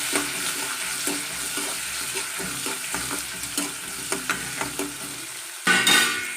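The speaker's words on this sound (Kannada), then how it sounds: "ಈರುಳ್ಳಿ ಹಾಕಿದ್ಮೇಲೆ ಸ್ವಲ್ಪನೇ ಇದಕ್ಕೆ ಫ್ರೈ ಮಾಡ್ಕೊಳ್ಳೋಣ್ರಿ" A chopped medium-sized onion fries in a pan for wedding-style shavige bath, a steady sizzle under rhythmic scraping stirs of a spoon, ending in a louder clatter.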